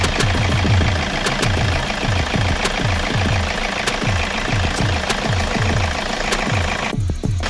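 A Toyota car engine idles steadily just after an oil change with Toyota Genuine Motor Oil, a loud, continuous rhythmic chugging with regular low pulses and a slight ticking knock, close up, with no one speaking.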